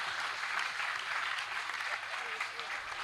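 Audience applause at a Hindi poetry recital, a dense wash of clapping from a crowd that continues steadily throughout, moderately loud and heard without any voice over it.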